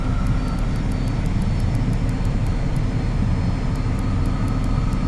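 Learjet 35 jet engines roaring steadily through a rolling takeoff in a flight simulator game, a dense continuous low rumble with rhythmic high beeping ticks on top, no talk.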